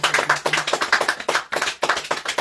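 Church congregation clapping together in rhythm, a quick, regular pattern of sharp hand claps at close range, loud and steady with a brief gap near the middle, no talking.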